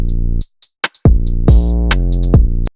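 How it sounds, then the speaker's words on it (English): A UK drill drum pattern programmed in FL Studio thumps along loud and up front, with deep sliding 808 bass hits, crisp hi-hat ticks and open hats, and sharp snare cracks in a choppy, syncopated rhythm. "All together, the drums sound like this."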